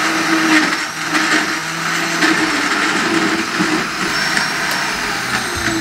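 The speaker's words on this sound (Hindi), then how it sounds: "इसको हम तकरीबन 1 मिनट ग्राइंड करेंगे" Blender grinding a mango pudding dessert mixture, a loud steady motor roar with a whirring high-pitched edge that holds constant for the whole stretch, close and alone with no talk.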